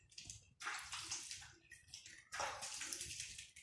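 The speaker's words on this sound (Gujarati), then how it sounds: "સરસ મજાનું પાણીથી ધોઈ કાઢું." Water splashes and runs while dishes are rinsed clean, heard as two close bursts of gushing and sloshing separated by brief quieter gaps.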